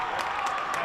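Spectators at a girls' high school basketball game between Rochester Adams and Stoney Creek give a short burst of applause and cheering, a steady crowd wash from a gym filling the brief moment.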